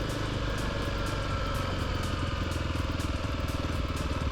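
A Kawasaki KLX300 dual sport motorcycle fitted with a 13-tooth front sprocket runs on a cold day, its single-cylinder engine droning loud and close in a steady, even throb with no pauses.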